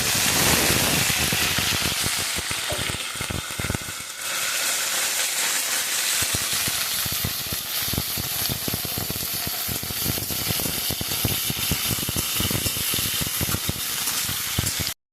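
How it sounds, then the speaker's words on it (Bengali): Loud, steady sizzling of okra frying in hot oil, with crackling spatters throughout and no talking. "ঢেঁড়সটা হালকা ভেজে নিলাম"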